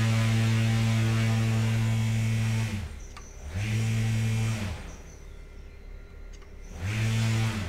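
A T-motor U15 electric motor on a VESC controller, run at full throttle, produces three loud bursts of deep, buzzing electric hum with strong overtones. The bursts are separated by short quieter gaps as it spins up and down, with no talking.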